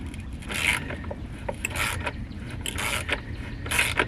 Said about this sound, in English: Now we got to tighten this top one.